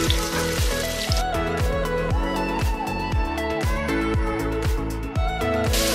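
Chopped onion hits sautéing garlic in a pan for a Filipino chop suey, a steady frying sizzle running underneath prominent rhythmic background music.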